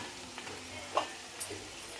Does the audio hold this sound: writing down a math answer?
no